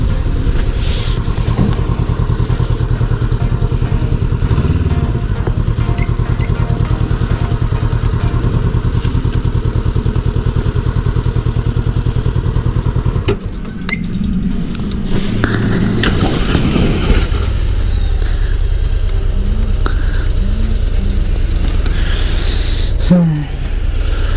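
Honda CBR400R motorcycle engine idling loud and steady at close range, then briefly dropping and shifting with clatter and thuds as it is parked, with the running engine resuming near the end.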